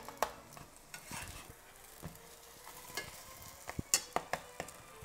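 Quiet, steady sizzling of Tatar potato-filled flatbreads (kystybyi) frying in a hot steel pan, with occasional soft scrapes and light clicks of a utensil, no voices.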